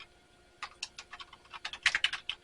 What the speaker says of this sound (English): this is a test